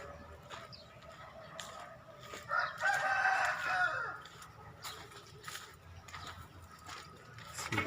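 A rooster crows on a multipurpose backyard chicken farm, one long crow rising loud and near midway through, over a steady bed of clucking fowl and rural background noise.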